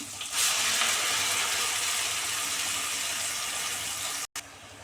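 Tomato puree hits a pan of fried green chillies for a mushroom paneer curry and sizzles loudly in a steady, dense hiss that holds throughout, with a brief cut near the end.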